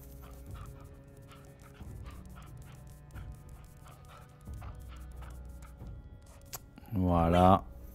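Dog barks, pants and yips in the medieval strategy game Crown Wars: The Black Prince, faint repeated sounds under steady game ambience, then a louder close burst near the end.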